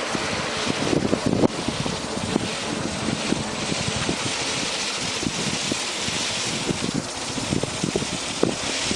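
Small wind turbines spin hard in a strong January wind, giving a steady broadband whoosh and buffeting roar with a low mechanical rumble and gusty bumps throughout, with no voices.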